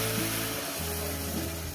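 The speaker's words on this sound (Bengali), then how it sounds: "দিয়ে দিলাম গরম জলটাকে।" Hot water is poured into a frying pan of dal with pumpkin greens, setting off a steady, close broadband sizzle and hiss that holds for the whole stretch without pause or talk.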